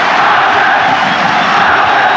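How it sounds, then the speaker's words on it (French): Football stadium crowd at Caen during a 2005 match against OM, giving an ovation and chanting a player's name: a loud, continuous roar of massed voices and cheering, sustained without a break. "Ovationné, le public qui scande son nom."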